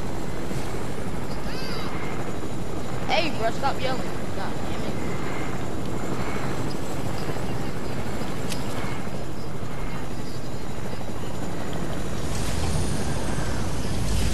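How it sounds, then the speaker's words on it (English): A video-game helicopter drones continuously with a steady whirring rotor and engine roar that stays loud for the whole stretch, while several players talk and shout over it. "So why don't you park the helicopter?"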